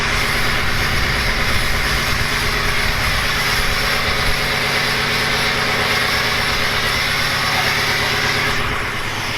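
Ford 6.0 diesel Super Duty truck engine running at a steady idle, a loud close continuous rumble with a rattly clatter and high whine throughout.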